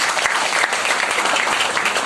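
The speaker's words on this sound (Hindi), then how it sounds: "ताली होनी चाहिए इन लोगों के लिए जो होगा।" Audience applause breaks out for honored achievers at a lifestyle event, a dense, loud, sustained clapping from a sizeable crowd with no speech over it.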